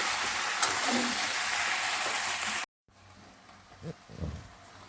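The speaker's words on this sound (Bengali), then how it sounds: "এখন এই নুনটা দিয়ে ভেজে নেব।" Jujube (kul) frying in a pan with salt, a loud steady sizzle that cuts off abruptly, followed by quieter scattered crackles and a few soft stirring knocks.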